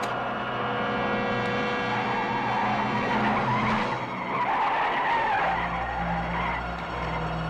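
A truck with failed brakes skids at full speed in a 1976 TV episode set at a Grand Prix, a loud sustained screeching skid over a heavy engine roar that continues throughout, with no talking.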